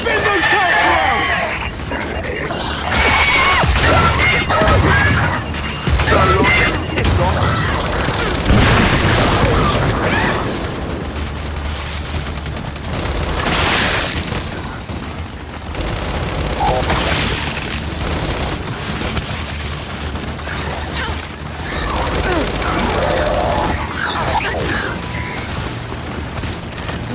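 Gears 5 gameplay combat with rapid turret gunfire and repeated heavy booms and explosions, loud and continuous, while characters shout over the fighting.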